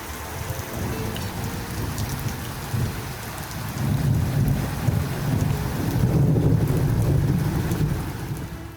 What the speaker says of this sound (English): what had been a dusty several years was suddenly broken by a series of rolling storms